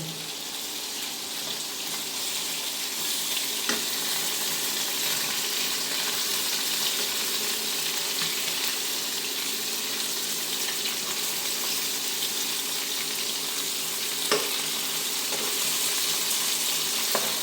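Tengra fish fry in a pan with a steady, even hiss of oil that carries on throughout, broken by a couple of sharp clinks, close and moderately quiet, with no talking.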